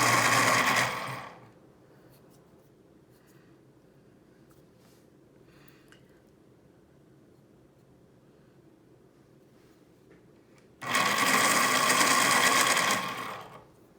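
A pencil whirs in an electric sharpener during a coloring session, two loud buzzing bursts of a second or two each, separated by a long quiet stretch of room hum.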